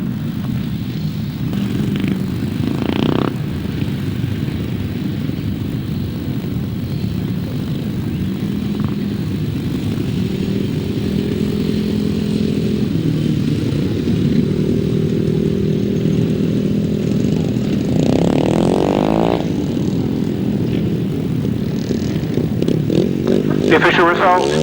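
Grasstrack racing motorcycles at the 2002 Yeovil Traders meeting, engines droning steadily at a distance with one bike's revving rising and falling, while an announcer talks over the noise.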